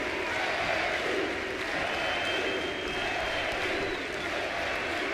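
A baseball crowd at an LSU versus Auburn college game stands and cheers in a steady, dense roar with scattered shouts and applause, loud and continuous throughout.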